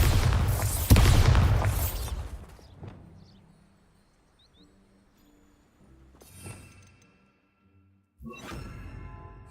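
A Bombarda blasting spell in the Hogwarts Legacy video game lands as a loud, heavy explosive boom with a long rumbling decay. Two shorter, fainter bursts follow after a near-silent pause.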